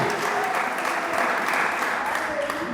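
A church congregation claps in praise during a worship service, a dense and even wash of applause sustained throughout, with a faint voice underneath.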